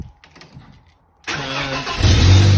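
A drift car's engine cranks over and catches after a quiet moment, then settles into a loud, close idle with a rising rumble.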